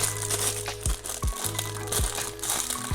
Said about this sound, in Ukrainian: Ось давайте зараз я відкрию всі пакети.